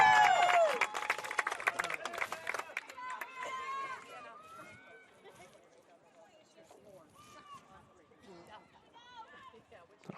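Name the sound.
home crowd cheering a goal at women's soccer match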